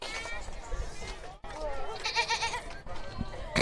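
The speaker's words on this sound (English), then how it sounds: "I've heard a goat." Goat bleats ring out at a Gatesville vs La Vega high school softball game, wavering cries rising over steady crowd murmur and PA chatter, with voices talking throughout.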